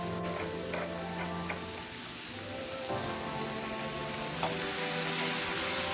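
Garlic and sweet red onions frying in a pan with mushrooms, a soft steady sizzle with occasional stirring clicks, fairly quiet and close, growing slightly louder toward the end.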